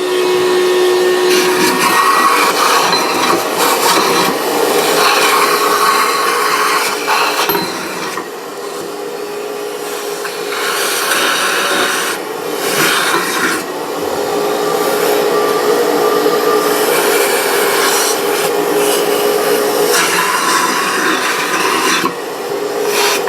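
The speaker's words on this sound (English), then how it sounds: "How about a shop vac?" A shop vac runs loud and steady, its roaring suction wavering in pitch as it pulls at a bowl stuck in a kitchen garbage disposal.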